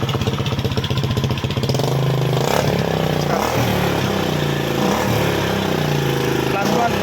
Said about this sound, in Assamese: ফাইনেলি আমাৰ বাইক ষ্টাৰ্ট হৈ গ'ল এই আৱাজ দিছোঁ